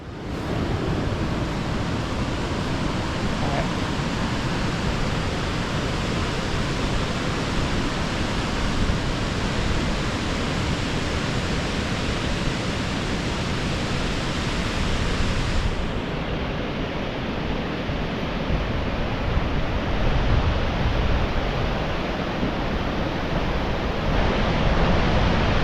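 The River Wharfe flowing near Linton Falls, a steady, loud broadband rush of water that carries on without a break, with a slight change in tone partway through.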